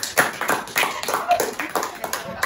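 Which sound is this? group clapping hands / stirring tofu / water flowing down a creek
group clapping hands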